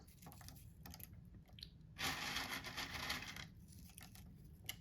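Crunchy pork chow mein noodles from a 1995 military MRE are chewed up close, with a loud, dense burst of crunching in the middle between quieter crinkles and bites.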